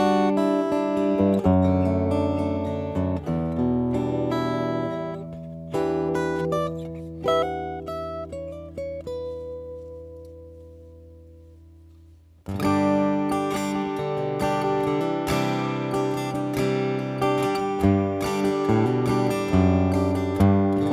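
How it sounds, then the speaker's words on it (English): An acoustic guitar played through a pedalboard with all effects bypassed, plugged straight into a DI: fingerpicked notes and chords, a ringing decay to near silence, then fuller strumming resumes, close and clear. "So what you're hearing is the guitar straight into the radial,"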